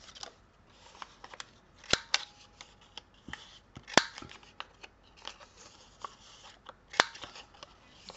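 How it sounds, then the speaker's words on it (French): A paper card has its corners rounded with a small cutter or scissors. Several crisp, isolated snips and clicks fall at irregular intervals amid quiet paper rustling and handling. "Donc là, j'arrondis les angles comme ils ont fait."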